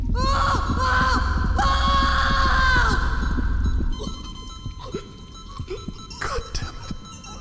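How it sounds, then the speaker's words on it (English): Piercing, tonal screams from the horror video game Stasis ring out loud and sustained for several seconds, then give way to sparse knocks, clicks and short shrieks in a quieter, eerie space. "They heard screaming."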